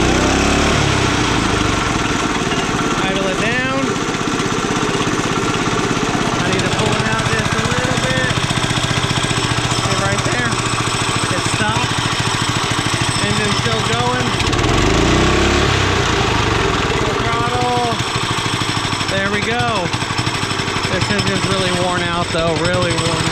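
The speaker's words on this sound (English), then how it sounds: "And then you can rev it up." A worn-out, smoking Honda trencher engine runs loud and close, with a steady rattling mechanical drone that rises in pitch as it is revved several times; a voice talks faintly beneath it.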